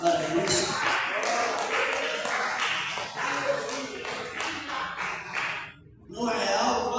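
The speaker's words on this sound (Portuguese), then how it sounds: "Pode bater palmas para isso." A church congregation at a São Mateus worship service claps along, a steady rhythmic patter of hands that nearly stops for a moment and then returns, with voices mixed in throughout.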